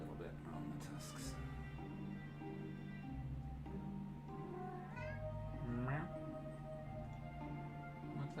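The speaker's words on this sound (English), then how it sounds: "Okay, just letting Kitty out" A cat meows to be let outside, short rising calls heard near the middle of the clip beneath a steady background hum and a person talking.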